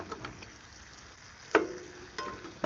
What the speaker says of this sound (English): So I'm gonna chop them up a little bit, just a little bit, not too much.